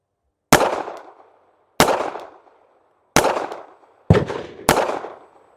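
Five sharp, loud pistol shots from an S&W Bodyguard 2.0 in .380 ACP firing 90-grain Hornady Critical Defense ammunition, each a crisp crack that decays quickly, spaced about a second apart with the last two closer together.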